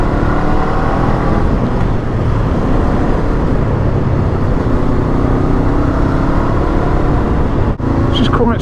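A Honda Hornet 500 motorcycle engine hums steadily in third gear while riding up a steep road, with a continuous close drone and wind rush.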